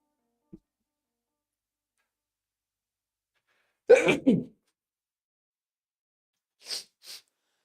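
A person sneezes once, a short, close burst in an otherwise near-silent stretch, followed by a couple of faint high clicks.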